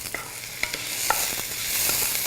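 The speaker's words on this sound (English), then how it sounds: "Let's give our onions a stir." Onions frying in a pan for a Moroccan vegetable dish, a close steady sizzle with a few soft stirring taps, no talking.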